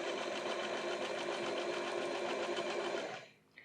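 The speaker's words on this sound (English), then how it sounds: "And now I simply run a stitch down." A sewing machine runs a straight stitch down the seam of a pair of men's pants, whirring loudly and steadily for about three seconds before stopping abruptly.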